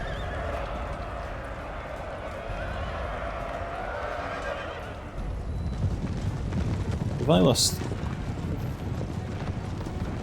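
Cavalry horses charging in a Napoleon: Total War battle, with hoofbeats and whinnies over a busy battlefield rumble, a sharp horse neigh standing out near the end while a commentator talks briefly.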